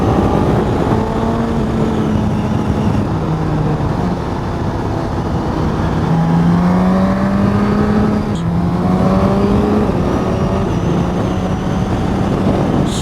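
A Suzuki GSX-S1000GT motorcycle pulls hard on the road with a loud, continuous engine note rising through the gears, buried in heavy wind rush.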